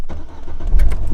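A Ford Fiesta ST fitted with anti-theft modifications cranks and fires up with the clutch pressed, a short, loud, close engine start that catches after a brief turnover with no talking.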